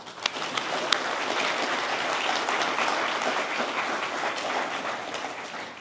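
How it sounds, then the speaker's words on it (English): A graduation ceremony audience breaks into steady, full applause honoring board members and donors, dense clapping holding at an even level for several seconds with no speech over it. "They all deserve our utmost appreciation and a round of applause."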